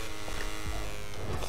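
Bees buzzing in the video game Minecraft Education Edition, a constant close drone like an electric shaver that holds steady and fairly loud with no voice over it.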